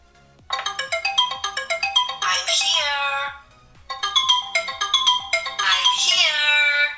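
A Doogee F3 phone rings in reply to a voice command, a loud close ringtone of rapid rising tonal notes played in two bursts separated by a short pause.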